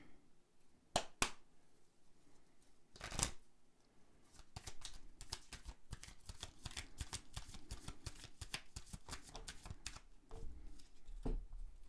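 Tarot cards being shuffled for an angel-guidance reading make rapid crisp riffling and flicking, with a few sharp taps at the start and then dense, steady card shuffles close up and without talk.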